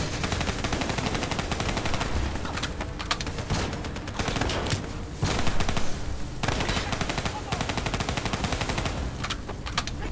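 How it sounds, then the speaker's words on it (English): Kuda submachine gun in the video game Call of Duty: Black Ops III fires in long rapid automatic bursts with a few short gaps. The gunfire is loud and continuous, with faint bird-like cooing in the background. "So the Kuda is an alright SMG for starters"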